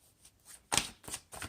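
Tarot cards are shuffled close up, a few quiet riffling swishes in quick succession, with a sharper flutter in the middle.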